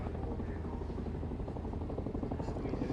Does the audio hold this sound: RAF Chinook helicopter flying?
yes